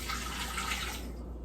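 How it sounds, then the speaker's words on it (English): Water poured from a cup into an Instant Pot pressure cooker for hard-boiled eggs, a steady splashing pour heard close up that tapers off at the end. "Pour it into your Instapot."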